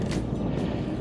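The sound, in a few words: wind blowing on a mountain summit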